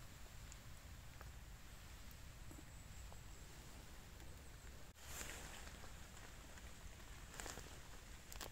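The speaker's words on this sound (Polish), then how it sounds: "Deszcz pada, ale to nam nie przeszkadza w niczym." Steady rain falls in a forest where mushrooms grow from moss and leaf litter, a faint continuous patter with occasional louder drip bursts and no voices.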